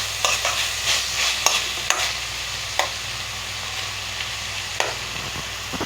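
Salted junka, a gram-flour dish, is stirred in a hot pan: a steady sizzle with repeated sharp scrapes and knocks of the spoon at uneven intervals, close and unaccompanied by talk.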